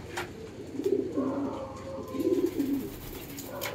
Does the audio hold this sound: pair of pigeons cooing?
yes